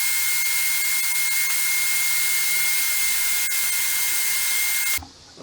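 Spray finish going onto a barn wood vanity, a steady loud hiss with a constant whine, running unbroken for several seconds, then cutting off abruptly near the end.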